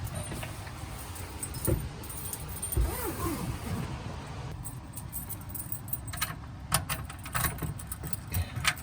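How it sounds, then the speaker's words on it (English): Keys jangle and rattle in a narrowboat's door lock, with light metallic clinks close by against a quiet background hum. "We normally leave the keys in this lock in case we need a quick exit in the night."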